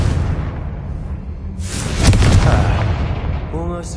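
A Confringo spell in the video game Hogwarts Legacy sets off a loud, close explosion midway, a heavy boom that rolls into a fading rumble, followed by brief tonal game chimes.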